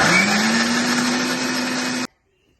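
A kitchen mixer grinder whirs loud and steady as it blends red chili and tomato paste for Nellore errakaram dosa, running alone for about two seconds before cutting off abruptly into silence.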